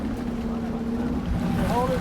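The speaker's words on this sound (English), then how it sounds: "the captain revs the boat's engines" Dive boat engines revving at an ocean dive site, a loud low motor drone that swells toward the end, with wind buffeting and water wash around it.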